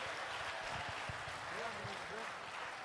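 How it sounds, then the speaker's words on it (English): Applause from a seminar audience, a steady broadband patter of many hands clapping that fills the moment, with a voice talking over it. "Please give big applause to Ms."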